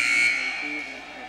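A basketball game buzzer sounds during a women's college game, a loud steady electronic tone with a voice talking over it.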